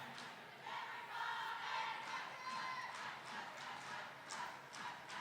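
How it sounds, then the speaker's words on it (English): A roller derby crowd at a Rose City versus Treasure Valley bout chants a skater's name in rhythmic, rising shouts that fill the arena, sustained throughout under general cheering. "the Much chant starts out in the crowd"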